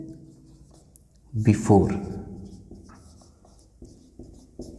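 Writing on a board during a class nine geometry lesson on the midpoint theorem: brief scratchy strokes sound close by, mixed in with a teacher talking in Hindi.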